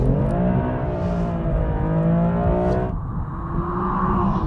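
Two BMWs, an M2 Competition and an M4 Competition, accelerating hard side by side in a drag race, a loud steady engine roar with rising harmonics that drops in pitch at a gear change near the three-second mark, then climbs again.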